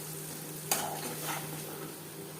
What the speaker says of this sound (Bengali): দিয়ে দিলাম গোটা জিরে। জিরে ভেজে নেওয়ার পর দিয়ে দেবো চিনেবাদাম, দুধ ও টমেটো